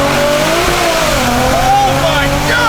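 BMW fitted with a big Precision turbo accelerating hard past a roadside listener, a loud rising engine roar with shifting pitch sweeps and a faint turbo whine, a voice talking over it.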